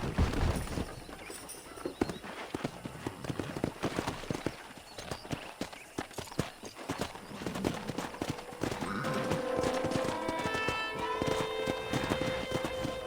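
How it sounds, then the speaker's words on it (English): Horse hooves clip-clop along at a walking pace in the video game Red Dead Redemption, with scattered movement noises and a steady tonal backdrop joining in toward the end. "Let's see if we can't wrangle some horses."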